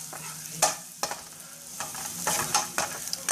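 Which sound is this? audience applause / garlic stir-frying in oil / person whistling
garlic stir-frying in oil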